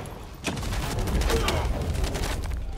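Gunfire in the shooter video game The First Descendant, a dense, continuous barrage of shots and blasts layered with game effects, loud and sustained throughout.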